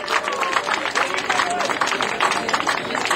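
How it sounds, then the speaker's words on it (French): A crowd at a transhumance gathering at Bonnecombe applauds officials, a dense, even wash of clapping with murmuring voices mixed in, held at a steady level from start to finish. "vous allez les applaudir, parce que vraiment, ils sont tous mobilisés."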